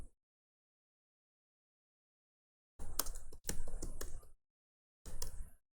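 Typing on a computer keyboard while entering text in an MS Word document, heard as a few close bursts of rapid key clicks separated by silence.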